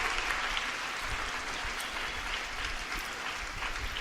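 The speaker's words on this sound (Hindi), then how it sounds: "जोरदार तालियों से आपा का इस्तकबाल" Steady applause from an audience at a school talent show and prize distribution ceremony, welcoming the principal, a broad even wash of clapping held for the whole stretch at moderate level with no voices over it.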